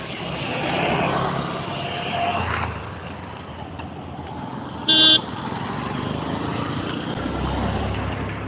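Road traffic rolls past a spot where children wait with bicycles to cross, a vehicle's noise swelling and fading around a short, sharp horn toot near the middle, with another vehicle approaching low toward the end.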